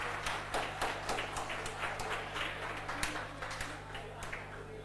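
A person claps their hands in a string of sharp, irregular claps over a faint steady hum, fairly quiet and close, with some murmured talk in the background.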